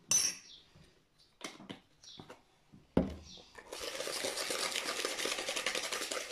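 A spoon stirring cookie batter with vanilla flavouring in a bowl: a few separate clinks and taps at first, then a sharp knock, followed by a continuous wet scraping and mixing noise close up.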